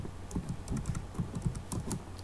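Quick, uneven clicking of keys being typed on a computer keyboard, close and fairly quiet, with no talking.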